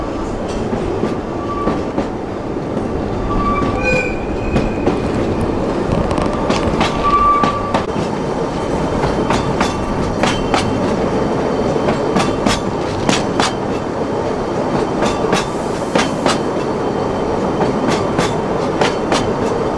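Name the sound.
train running on rails, Oigawa Railway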